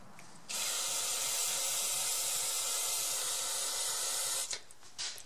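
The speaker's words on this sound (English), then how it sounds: "The best thing to use is contact cleaner, which will evaporate quickly, not leave any residue, and will not harm any of the other materials." Contact cleaner sprayed from an aerosol can onto Honda XR400 motorcycle fork parts, one loud continuous hiss lasting about four seconds, close up, followed by a couple of short spurts.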